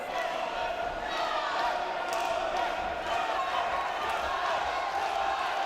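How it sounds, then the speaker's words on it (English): Wrestling event crowd at BattleMania, a dense steady roar of many voices chanting and cheering, loud and continuous with occasional thumps. "Crowd shouting, Scotland, Scotland,"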